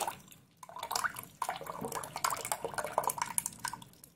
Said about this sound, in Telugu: ఇప్పుడు మనం పలచం చేసుకున్న శనగపిండి, ధనియాల పొడిని మజ్జిగలో కలుపుకోవాలి.